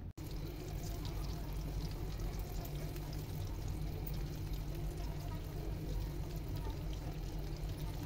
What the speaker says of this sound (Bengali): তেলটা কিছুটা গরম হয়ে আসলে আমি একে একে সব চিকেনগুলো দিয়ে দিচ্ছি।